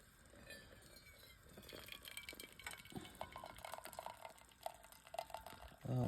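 At an overland camping site in northern Nevada, water trickles and splashes into coffee grounds for a pour-over, with soft clinks along the way and a louder pour at the end.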